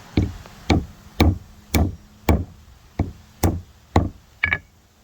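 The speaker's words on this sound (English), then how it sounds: "this is the best spot to hit the nut, to crack it open" A nut is struck over and over to crack it open, giving eight loud, close knocks at a steady rhythm of about one every half second. No voices are heard.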